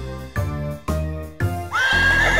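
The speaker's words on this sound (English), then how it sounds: "A horse is in the barn, a horse is in the barn." In a children's farm song about a horse in the barn, a few musical chords give way to a single loud, close horse whinny that wavers and trails off near the end.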